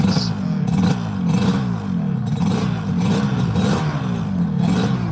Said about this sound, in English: Let's see if we can make some two-stroke noise.